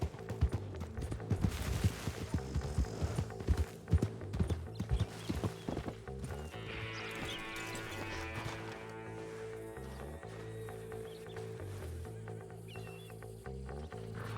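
Clip-clopping horse hooves in a video game at the stables, a rapid irregular run of hoof beats for several seconds that gives way to a steadier ambient tone with softer sounds, no voices.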